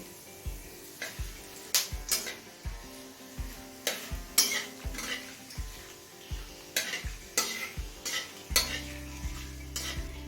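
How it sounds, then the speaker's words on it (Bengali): Cumin seeds, bay leaves and dried chillies fry in oil heated on high flame, a soft sizzle running under a steady rhythm of spoon scrapes and clinks against the pan, close by and without speech. "তেল হাই ফ্লেমে গরম করে নিয়েছি এবার গোটা জিরে দিচ্ছি এক চামচ আর দিচ্ছি দুটো তেজপাতা ফাটিয়ে নেওয়া শুকনো লঙ্কা দিচ্ছি দুটো"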